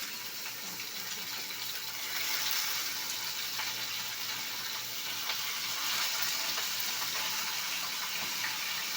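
Fish frying in a pan gives a steady, dense sizzle and crackle that holds for the whole stretch, swelling slightly midway, with no talking.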